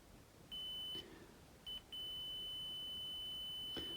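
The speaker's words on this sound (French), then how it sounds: "Ça bip." A multimeter in continuity mode beeps while a car's steering column switch wiring is probed pin by pin, giving a thin, steady electronic tone in a few short bursts, then a longer held beep, with faint clicks of the probes.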